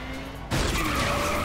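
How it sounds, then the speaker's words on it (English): A smart car fitted with nitrous skids in the video game Saints Row IV, a sudden loud tire screech bursting in after a quieter engine hum and holding steady to the end, with no voices. "I've got a smart car with nitrous."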